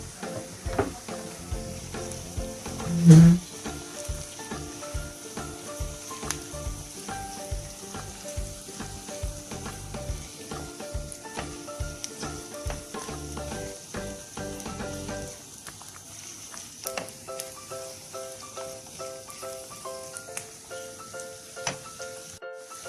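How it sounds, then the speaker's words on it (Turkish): Chopped peppers sizzle and crackle in hot oil, with repeated scraping stir strokes in a steady rhythm through the first two-thirds, then quieter frying continues. "bu şekilde karıştırıyorum biberlerimiz de kavrulsun iyice hepsi"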